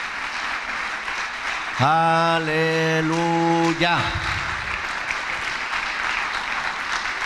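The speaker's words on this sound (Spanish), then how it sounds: "Denle el mejor aplauso que usted tenga para el Señor" Congregational applause for the Lord during a church service, a steady broadband clatter running through the whole stretch while a voice sings or calls out a drawn-out praise in the middle, then fades back to clapping alone.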